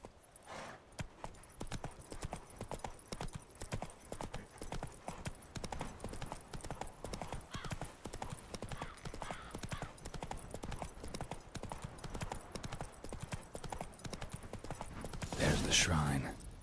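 Roach the horse's hooves drum in a fast, even gallop from start to finish in the Witcher 3 video game, with a sharp burst of louder noise near the end.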